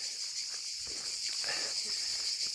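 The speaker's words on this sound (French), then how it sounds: "alors ici c'est un concert de cigales, c'est magnifique, ça chante et ça chante" Cicadas sing in a loud, continuous droning chorus on a countryside stretch of the Camino de Santiago near the abandoned village of Ruesta, with steady buzzing throughout and no talk.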